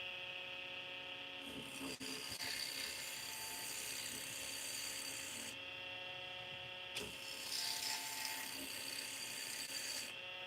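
A skew chisel shaves a wooden workpiece on a lathe, a steady droning motor hum with tonal whine and a continuous rasping cut that briefly grows rougher, with no one talking.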